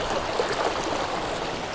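Cold water flows steadily in a stream, a dense continuous rush and burble heard alone at close range with no voices.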